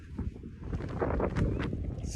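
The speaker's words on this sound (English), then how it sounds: "It's getting a bit windy now." Wind gusts buffet the microphone on a coastal walk near Great Yarmouth and Winterton-on-Sea, a steady low rumble that swells in the middle and tapers off, with no speech.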